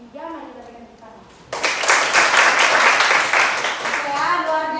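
A classroom audience bursts into steady applause after a brief bit of talk, many hands clapping together for a few seconds, loud and close.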